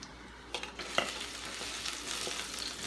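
Garlic sautés in a pan for pork pata papaitan, a soft, close sizzle broken by a few sharp stirring clinks and scrapes near the start, then settling into a low, even fry; no talking.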